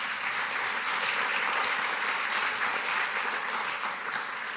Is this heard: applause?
yes